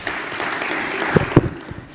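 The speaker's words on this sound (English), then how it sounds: "Another round of applause for Honorable Amisi." An audience applauds at a youth forum in a hall, a moderate, steady patter of clapping with a few sharper nearby claps standing out toward the middle before it tapers off.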